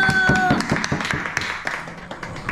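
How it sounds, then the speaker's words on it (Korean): Applause from a group at a gathering of friends sharing food and soju, a burst of brisk hand claps that is loud at first and gradually thins out, with voices mixed in. "박수!"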